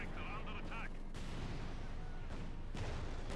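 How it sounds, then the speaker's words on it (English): A T-34 tank fires its cannon in Company of Heroes 2, and the shot bounces off a Panzer IV's armour. Heavy booming gunfire and explosions roll through dense battle noise, with a brief musical tone at the start. "T-34 moves up, shoots and bounces over the Panzer IV's armour."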